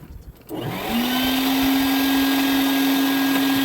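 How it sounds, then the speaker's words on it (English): A bee vacuum starts up at about half a second and runs steadily during removal of a honeybee colony in December, a loud, constant motor whine with a steady hum and no talking. "So this is my bee vacuum, and I'm just going to go through and safely collect the bees into a containment cage."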